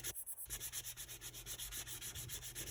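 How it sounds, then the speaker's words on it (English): Polymer clay mokume gane being buffed down to its white layer, a steady rhythmic rubbing and sanding scrape repeating in even strokes, close and fairly quiet with no talk. "just buffing it off until I'm down to the white"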